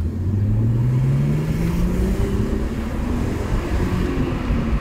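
A sports car engine revs and accelerates steadily, its pitch climbing as it pulls hard, loud and close with no talking.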